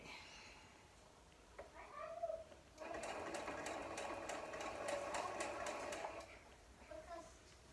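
A sewing machine stitching a quilt block of half square triangles runs in one steady, close burst of rapid whirring for about three seconds, with soft talk just before and after.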